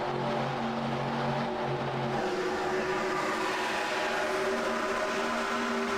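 Race cars roar past on the oval at Auto Club Speedway in iRacing, a steady layered engine drone with shifting pitch as cars go by, loud and continuous with no talking.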